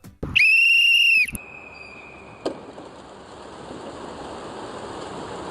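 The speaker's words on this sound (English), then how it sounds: "The birds seem to respond to a whistle, which signals they should take flight." A loud, shrill whistle sounds once for about a second, then cuts off, leaving a quieter rushing background like flowing water.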